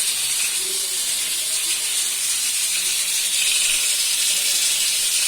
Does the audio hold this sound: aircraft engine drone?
no